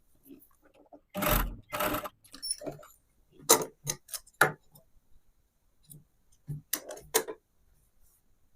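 A sewing machine runs a loose basting stitch on a blouse in short stop-start bursts of rapid mechanical clatter, close and quiet, separated by pauses.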